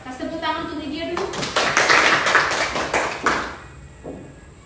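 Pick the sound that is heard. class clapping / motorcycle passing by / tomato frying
class clapping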